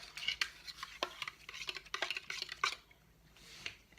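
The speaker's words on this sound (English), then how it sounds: "In the buttermilk, sorry, you put in a half a teaspoon of baking soda. And you mix that up." Baking soda being stirred into buttermilk with a spoon, giving a run of close, quick clinks and scrapes against the bowl that stop near the end.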